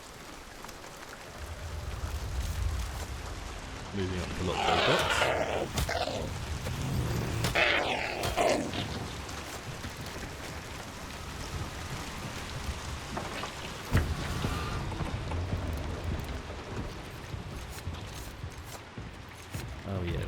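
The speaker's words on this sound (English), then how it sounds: "We got the rain." Steady rain pours in the video game Hunt: Showdown, with a low rumble beneath it, while someone talks over the downpour.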